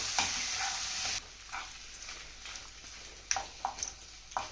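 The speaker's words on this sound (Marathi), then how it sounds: "कोथिंबीर घालू त्याला छान परतून घ्यायचं" Mutton masala with coriander is sautéed in a pan, giving a steady sizzle with repeated scraping stir strokes. The frying noise is quiet and close.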